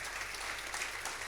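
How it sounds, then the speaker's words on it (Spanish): A church congregation applauding during a sermon, a faint, distant, continuous wash of clapping heard briefly at low level. "Dale un fuerte aplauso al Señor."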